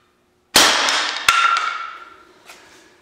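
A home-built high-pressure airgun with a .22 caliber barrel fires one sharp, loud crack after silence, followed by a second metallic impact and a ringing decay that fades over a couple of seconds.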